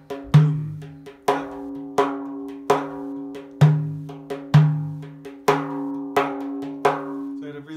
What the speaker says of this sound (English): a Turkish Rom style version of the 9-8. And it sounds like boom, boom,